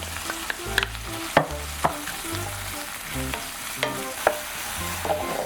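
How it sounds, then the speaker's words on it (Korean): Chopped vegetables sizzle in melted butter in a pan over medium-low heat, with a steady soft fry under repeated spatula scrapes and taps, close and moderately quiet. "중약불에 팬을 올리고 버터를 사르르 녹여주세요. 여기에 준비한 야채를 노릇노릇하게 볶아주고"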